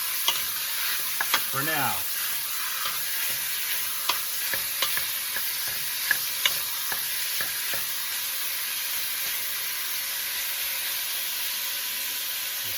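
Beef browning in hot oil for stew, a steady broadband sizzle and fry hiss throughout with occasional sharp crackles and a few spoken words over it.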